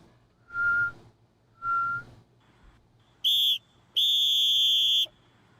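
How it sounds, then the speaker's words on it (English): An official halftime whistle sound effect: two short, bright blasts on a referee's whistle, followed by two harsher electronic tones, the second held longer, with no talking. "Oh, it's an official halftime whistle."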